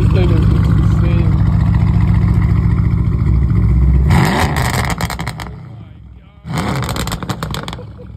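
Heavily modified 1000-horsepower PTG Mercedes-AMG C63 S engine: a loud, deep idle builds into two sharp, raspy revs separated by a short dip, with excited voices in the background.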